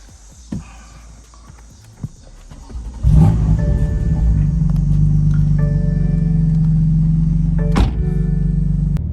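A BMW F80 M3 fitted with Pure Stage 2 turbos pulls onto the road: a few door and cabin thunks, then the engine note rises and holds a loud, steady drone with shifting tones, briefly interrupted by a sharp clunk.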